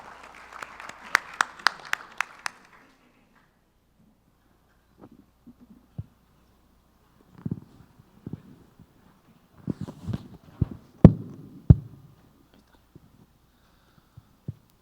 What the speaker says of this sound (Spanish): Un fuerte aplauso para el panel